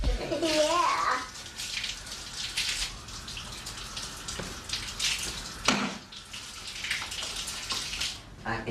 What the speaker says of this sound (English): I can hear the water running all the way over here.